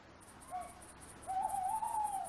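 A tawny owl hoots twice at night, a short call and then a longer wavering one, faint and clear against a quiet background.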